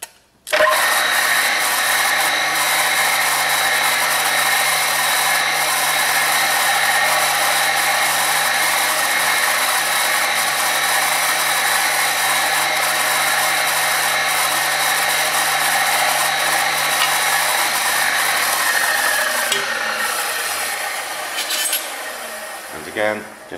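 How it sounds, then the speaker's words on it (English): A power drill bores two holes in a workpiece, giving a loud, steady motor whine that runs continuously for about twenty seconds before winding down. "Two holes to drill in this, so it's only going to take a second to drill them."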